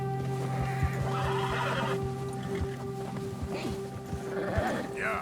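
A horse whinnies in Red Dead Redemption 2, with clip-clopping hooves moving at a steady walking rhythm under a low steady hum. A second, shorter whinny comes near the end.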